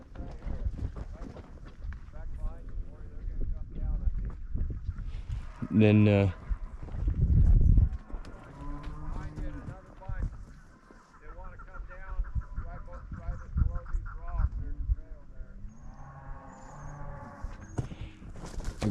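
A horse walks across hard Nevada desert ground while heifers are being gathered, its hooves making a steady clip-clop under someone talking for most of the clip.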